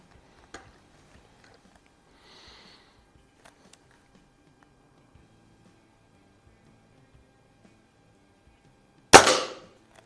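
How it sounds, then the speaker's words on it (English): A single sharp crack from a Feinwerkbau 124 spring air rifle firing at the range, loud and close, followed by a short decaying ring, after several seconds of near silence with faint small ticks. "this is just such a sweet shooting gun"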